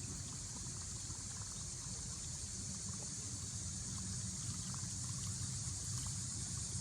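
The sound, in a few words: topwater lure propeller churning water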